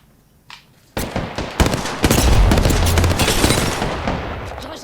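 Gunfire in the video game Apex Legends: a few isolated shots, then dense, loud rapid-fire bursts that run continuously for several seconds with no speech.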